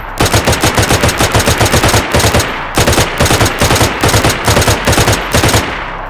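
Rapid three-round bursts from an M4A1 rifle in DayZ, loud and close, repeating in tight clusters with short gaps between them and no talking.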